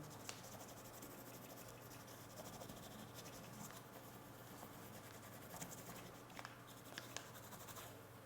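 A dark pencil shades across paper laid over a coin, producing a continuous soft scratchy rubbing with light irregular strokes, close and faint, with no talking.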